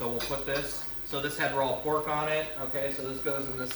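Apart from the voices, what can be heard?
No everyday noises stand out.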